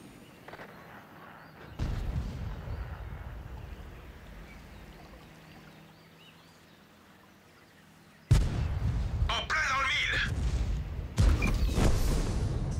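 A tank gun fires from a Lynx 6x6 in the online battle game World of Tanks, with a heavy boom that settles into a loud engine rumble, followed by more blasts and rumbling later on.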